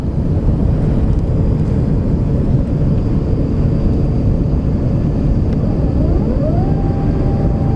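Steady, loud roar inside the cabin of an Airbus A350 airliner coming in to land, a constant broadband rumble with a rising tone near the end, likely the flaps moving, with no voices.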